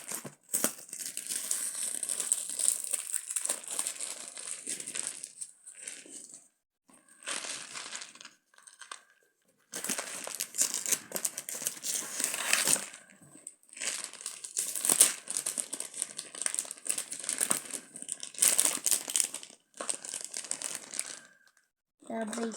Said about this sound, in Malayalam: ഇത് അൺബോക്സ് ചെയ്ത് നോക്കിയാലോ.